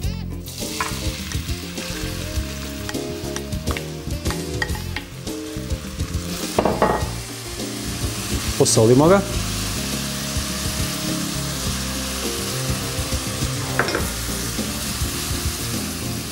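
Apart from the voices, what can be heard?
chopped red onion frying in olive oil in a pot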